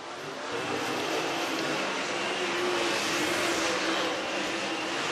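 Dirt track race cars running a hot lap session at Talladega Short Track, heard as a continuous distant roar of engines that swells slightly and holds steady throughout.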